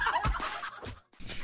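Farm poultry clucking and gobbling nearby, a quick run of close, fairly loud calls broken by a brief pause, with no talk over them.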